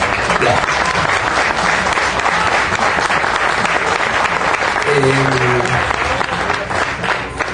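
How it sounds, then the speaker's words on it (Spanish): An audience at a book fair in Mexico applauds in a long, steady, loud wave of clapping from many hands, with a brief voice rising through it partway in. "yo les pediría que entonces ese aplauso sea para él"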